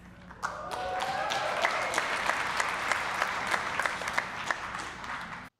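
Keynote audience applause rises sharply and holds steady as dense, continuous clapping from a large crowd, with a few sharper individual claps standing out near the front.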